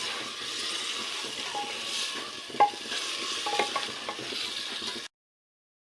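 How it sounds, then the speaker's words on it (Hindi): Spices fry and sizzle in a pan for an eggplant and potato curry, a soft steady hiss broken by scraping stirs, fairly quiet and close, before cutting to silence. "इसे 4 से 5 मिनट हो चुके हैं मसाले भूनते हुए"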